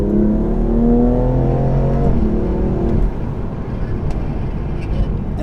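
Mercedes A45 AMG and BMW M2 Competition accelerate hard in a rolling race, a loud close engine roar with rising gear harmonics that drops at a shift around three seconds, then continues under wind noise.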